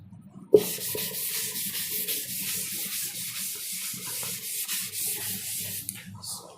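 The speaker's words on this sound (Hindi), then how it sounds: "मैं इसको थोड़ा रब कर रहा हूँ" Something steady rubs across a board, as when writing is erased during a lesson on measurement, making a continuous close scraping hiss that runs for several seconds after a brief bump.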